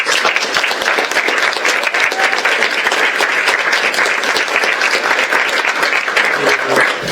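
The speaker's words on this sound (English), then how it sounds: "Let's give a big hand of applause to Brogan Lewis" Audience applause at a teen town hall meeting for Brogan Lewis: loud, dense, sustained clapping from a large crowd that fills the whole stretch evenly, with no talk over it.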